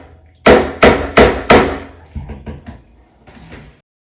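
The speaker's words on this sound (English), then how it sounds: "Then use a hammer to tap down each pin." Four sharp hammer taps on door hinge pins in steady succession, loud and close, followed by softer, smaller knocks and clatter.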